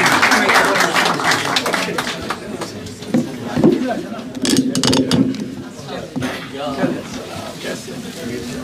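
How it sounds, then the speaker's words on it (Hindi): An audience applauds as a poet is welcomed to the stage at an Urdu poetry gathering, with irregular bursts of clapping and crowd noise mixed with voices and background chatter. "आगे बहुत सारी तालियों में"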